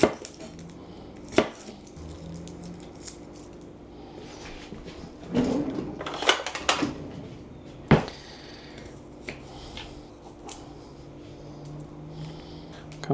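Garlic being coarsely chopped with a knife on a board: sharp knife thuds spaced through the clip, with a denser cluster of quick chops in the middle, close and fairly loud with little else around.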